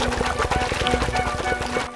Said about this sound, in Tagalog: Ang kakaibang tunog na ito ay nanggaling sa mga buwaya.